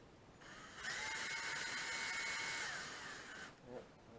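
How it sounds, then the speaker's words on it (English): An electric drill spins the input shaft of a Citroen 2CV gearbox, a steady whirring whine for about three seconds that then spins down, with gear clatter after. "So I've got my electric drill stuck on the input shaft of the gearbox"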